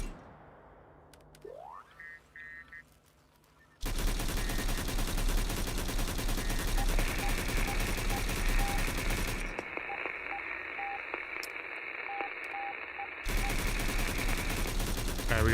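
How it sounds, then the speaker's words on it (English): Dense, sustained automatic gunfire from AI enemies shooting through a wall in the video game STALCRAFT: X. Loud rapid bursts run almost continuously after a quieter start with a few beeps, briefly thin out, then return at full intensity. "The AI trying to shoot through the wall."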